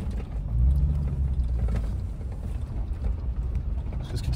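A Camaro rolls in to park at the end of a long road trip, its engine a steady, close low rumble that holds loud and even for several seconds, with a bit of wind buffeting the microphone.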